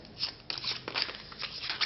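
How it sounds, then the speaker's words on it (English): A pile of playing cards is shuffled for a card trick, a short burst of soft riffling and flicking close to the microphone. "So we shuffle our pile"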